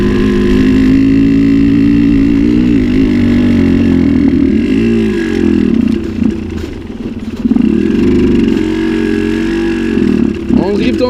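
A Suzuki 125 TSR trail motorcycle strains up a snowy, icy slope, its small engine buzzing loudly and close, revs surging and sagging unevenly as the clutch slips, with brief dips and clattering bumps.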